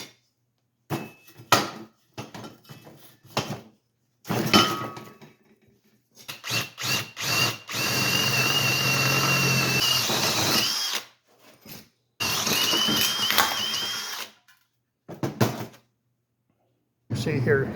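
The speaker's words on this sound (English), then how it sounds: "what I got to do now is drill some holes here for my shrinker stretcher" A power drill whines in repeated bursts while drilling holes in metal, some short and some sustained for several seconds, close by, with pauses of near silence between runs.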